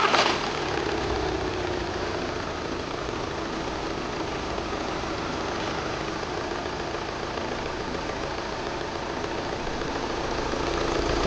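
The diesel engine of a 2014 VW Passat TDI fires up with a brief loud catch after timing belt work, then settles into a steady, even idle rattle that carries on alone without talk.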